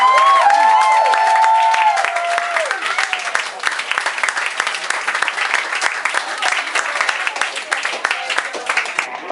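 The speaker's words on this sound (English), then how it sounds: "let's start the clapping" A crowd at a stand-up comedy gig in a London pub applauds to welcome a comedian, loud sustained clapping from many hands that thins slightly toward the end, with a few short voices mixed in.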